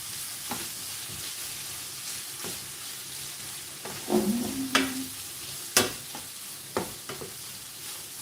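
Sausages frying in a pan over medium heat give a steady close sizzle, with occasional clicks and knocks of a utensil and a few louder pops scattered through.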